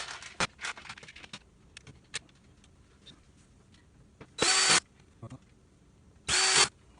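A power drill drives screws into a 42-inch LG LED TV during repair, with two short loud whirring bursts separated by scattered taps and handling clatter, close by.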